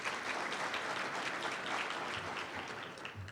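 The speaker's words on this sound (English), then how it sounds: "Give him another round of applause" Sustained audience applause for a presenter at a health innovation workplace forum, dense and even throughout, fairly soft and distant, with no talking.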